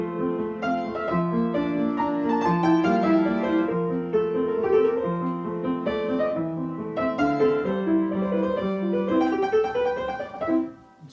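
Piano plays the B section of Beethoven's Für Elise in a major key, with flowing melodic lines and a gentle, steady rhythm. It sounds close and clear, with a slight ritardando at the end and no talking.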